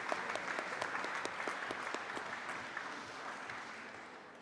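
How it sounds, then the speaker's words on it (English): Applause from a festival audience at a Bloomsday celebration, a moderate patter of many hands with a few sharper individual claps, gradually thinning toward the end. "Let's give them all a round of applause"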